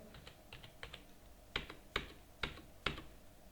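Typing on a computer keyboard while entering data in Tally Prime accounting software, heard as quiet, spaced keystrokes with a few firmer presses near the end, with no talking.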